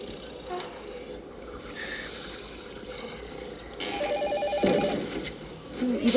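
A telephone rings in a house late at night, a tonal electronic ring standing out partway through over a low background hum, with talking voices around it.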